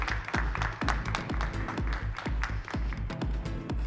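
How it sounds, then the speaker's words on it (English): Audience applause at an investors' conference, with claps mixed into steady beating music, both loud and continuous throughout. "let's give a huge round of applause"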